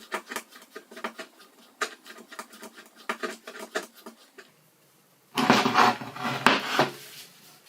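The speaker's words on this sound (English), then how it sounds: "Winding the cross-slide off the end of the travel turns out to be a lot easier with the handle reinstalled." Cross-slide being wound off the lead screw of a CJ0618 7x12 mini lathe: a run of short, light scraping and tapping strokes for several seconds, then a brief pause and a louder, denser rasping burst of metal sliding near the end.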